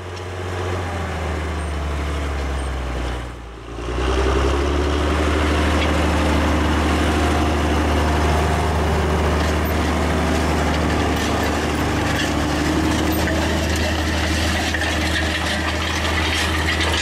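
A John Deere 7020 four-wheel-drive tractor from the early 1970s runs steadily while disking a field, its loud, deep diesel rumble continuous and close, with a brief dip before the engine note settles in.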